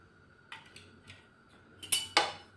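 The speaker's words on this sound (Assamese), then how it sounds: "এনেদৰে হেতা দি উলট পালট কৰি এনেদৰে চাউলৰ গুড়িখিনি ভাজি লৈ আছোঁ" A spatula stirs rice flour dry-roasting with salt in a wok, giving a few sparse, sharp metallic scrapes and clinks, the last two louder, over near silence.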